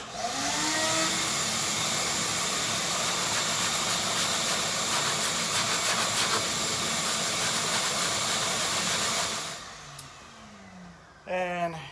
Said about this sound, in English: This is gonna be nasty too, so we're gonna turn the vacuum cleaner on.